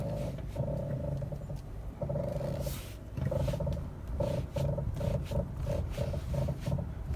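Steering noise from a 2012 Kia Forte: a repeated groaning, creaking tone in short bursts of uneven rhythm over a steady low rumble, fairly close and without talk.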